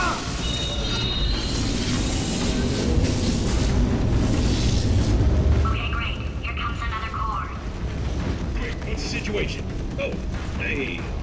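Bombs explode in the Portal 2 finale as deep rumbling booms and mechanical clanking that fill the scene, with a person talking over them.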